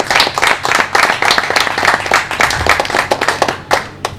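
A live audience applauds warmly at a comedy night in Strasbourg, dense continuous clapping from many hands, close and loud, with a few brief voices mixed in.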